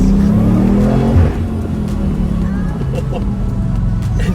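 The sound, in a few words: 2020 BMW M8 engine revving at high RPM, turbo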